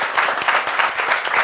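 A studio audience on a French-language talk show claps for an arriving guest, a dense burst of applause with rhythmic surges, loud and close, with no speech over it.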